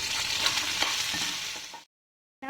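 Chopped tindora, ivy gourd seasoned with turmeric and salt, frying in a pan, a constant sizzle with light stirring scrapes before a sudden brief silence.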